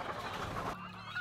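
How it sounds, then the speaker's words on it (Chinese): Anxious hens crowded into cramped cages at a chicken farm in Pingtung, Taiwan, clucking and squawking close by in a brief, busy burst. "紧张焦虑的母鸡挤在狭窄笼子里，一见陌生人靠近，不断振翅飞扑。"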